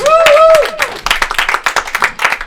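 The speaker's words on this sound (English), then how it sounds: "Give a round of applause for Thomas Jarrett." Comedy club audience clapping for a comedian taking the stage at a live show, a burst of scattered hand claps following a brief tonal whoop or cheer, moderately loud and close, thinning into uneven individual claps.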